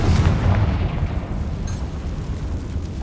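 Confringo blasting spell from Hogwarts Legacy detonating in a castle room, a loud close boom that rumbles low and fades into a lingering crackle.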